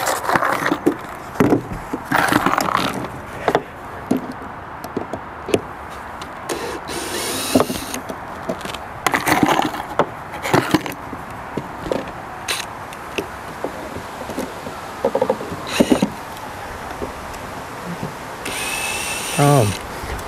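A power drill backing loose screws out of boat deck hardware while winches are removed: repeated short whirring bursts with pauses and clicks between them, close and fairly loud, over a steady background hum.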